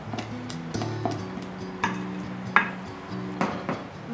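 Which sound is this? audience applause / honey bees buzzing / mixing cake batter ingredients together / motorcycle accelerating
mixing cake batter ingredients together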